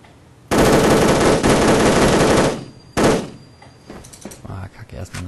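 Sustained bursts of machine gun fire in the WolfTeam online shooter, one long loud rapid-fire stream followed by a shorter burst, then quieter clicks and clatter as the shooting stops.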